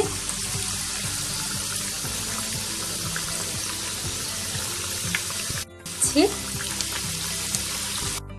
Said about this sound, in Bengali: এবারে আমি লো ফ্লেমে এগুলোকে ভেজে নেবো